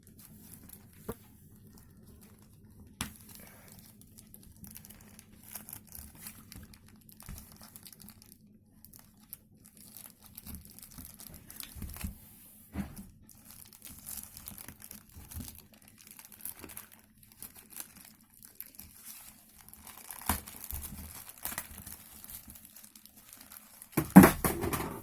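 An envelope holding an Axis Bank credit card being opened, with soft paper crinkling and tearing off and on throughout and a louder rustle near the end, close and quiet.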